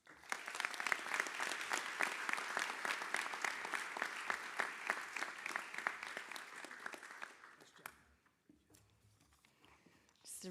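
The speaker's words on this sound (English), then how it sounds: "Just a round of applause one more time for our Students of the Year." Applause from an audience at a school board recognition ceremony honoring Students of the Year, a dense, steady clapping that runs for about seven seconds, then fades out into near quiet.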